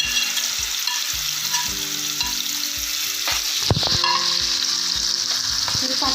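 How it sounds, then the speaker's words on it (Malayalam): Paneer fries in hot oil with a loud, steady sizzle, while a utensil scrapes and stirs in the pan in repeated knocks and one sharper clatter, with no talking. "നമ്മുടെ എണ്ണ ചൂടായപ്പോഴത്തേക്ക് നമുക്ക് ഇതിനകത്തോട്ട് നമ്മുടെ പനീർ ജസ്റ്റ് ഒന്ന് ഫ്രൈ ചെയ്തെടുക്കാം."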